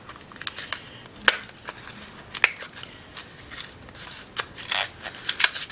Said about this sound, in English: box being ripped